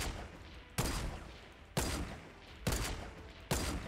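Gunfire in the video game Fortnite Battle Royale: four loud bursts at roughly one-second intervals, each sharp onset trailing into a long, broad, noisy decay.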